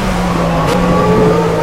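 Race car engine in Project CARS held at steady revs with the gearbox stuck in neutral, a loud, constant droning whine throughout the short stretch, no talk.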